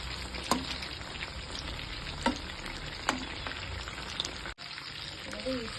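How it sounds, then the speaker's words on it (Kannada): Coated boneless chicken pieces frying in hot oil for biryani give a steady, close crackling sizzle with scattered sharper pops, a spatula occasionally stirring through the pan. "ಇದನ್ನು ಒಂದು ಸ್ವಲ್ಪ ಫ್ರೈ ಮಾಡ್ಕೊಳ್ಳೋಣ."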